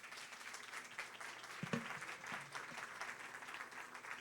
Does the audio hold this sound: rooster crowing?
no